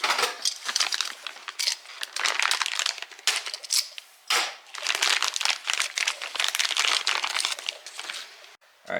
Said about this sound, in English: Let me go ahead and take this out.